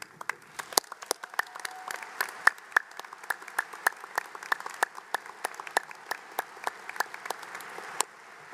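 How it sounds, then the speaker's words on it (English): A small commencement audience at Harpur College applauds the faculty, sparse distinct claps in an irregular rhythm that sound fairly close and thin over a quiet hall. "please join me as we applaud their support of and dedication to the success of our students"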